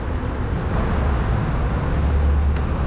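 A city bus pulls out of Terminal Alvorada, a busy BRT and urban bus terminal in Rio de Janeiro, giving a loud, steady low engine rumble with a constant wash of traffic noise around it.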